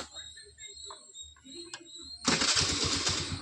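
A TVS Jupiter scooter's self-starter cranks and the engine catches, a loud steady idle rising abruptly partway through after quieter background voices and faint clicks.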